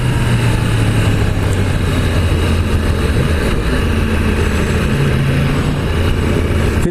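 A 2016 Yamaha YZF R1 on a road test ride drones with a steady engine hum under constant wind rush, the pitch shifting slightly as revs change and then cutting off at the end.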